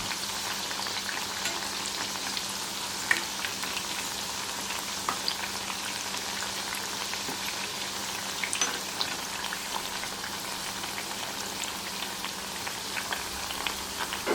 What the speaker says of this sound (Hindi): अब मीडियम लो फ्लेम पर ही हम वड़ी को हल्का सुनहरे रंग का होने तक फ्राई करेंगे।